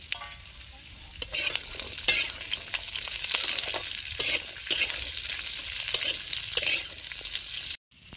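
Karamcha fruit dropped into hot oil for pickle, sizzling and frying steadily with bay leaf and dried chilli, the crackle broken by scrapes and knocks of a spatula stirring the pan, then a brief cutoff near the end.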